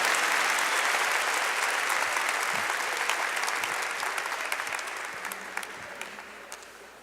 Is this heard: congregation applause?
yes